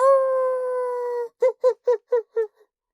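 A human voice imitates a wolf howl, heard close and clear. One long, steady tonal howl is followed by five short, rhythmic yelps that trail off.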